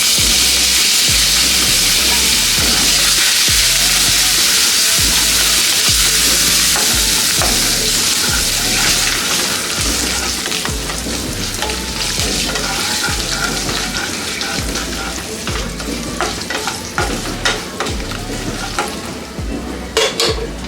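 A couple of sprigs of curry leaves hitting hot oil while cooking sesame seed rice, giving a loud, continuous close-up sizzle and crackle, with occasional utensil scrapes and clinks against the pan.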